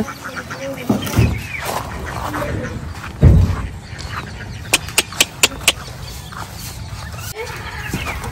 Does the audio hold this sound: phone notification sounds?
no